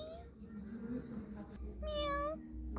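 A cat meows indoors, with harmonic calls rising and falling, the clearest around two seconds in, over a steady low hum and a person's voice nearby.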